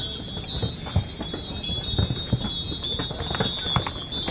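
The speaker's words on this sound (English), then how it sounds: "Can you hear that? That's the donkeys." Donkeys' hooves clip-clop irregularly along a stone path on Santorini, close by and fairly steady, over a faint outdoor murmur.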